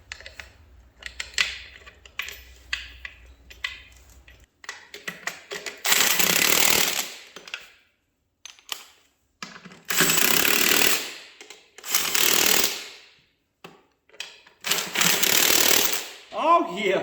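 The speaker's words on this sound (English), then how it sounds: "me get some bolts in it" A power tool drives bolts into an engine mount as a motor is installed in a car, sounding in several loud whirring bursts of a few seconds each, separated by pauses, with talking in between.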